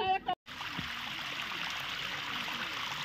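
Water flows down a stream in a Srinagar garden, a steady close trickling wash that runs continuously after a brief voice and a short gap at the start.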